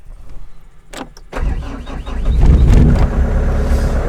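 Caterpillar 299 compact track loader with over 2,000 hours: a couple of clicks, then the diesel engine starts and settles into a loud, steady, rumbling idle close by.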